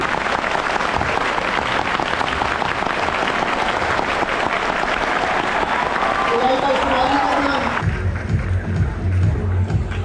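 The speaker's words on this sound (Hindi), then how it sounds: "एक बार जोरदार तालियां रोहित जी" A crowd at a university educational meet breaks into loud, sustained applause, which then gives way to a speaker's voice over background sound.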